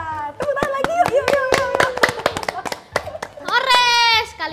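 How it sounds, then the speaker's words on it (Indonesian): Children clapping together in a rhythmic pattern of sharp hand claps, mixed with bright kids' singing or chanting voices throughout, louder and more sustained vocals rising near the end. "Tepuk tangan lagi, yuk"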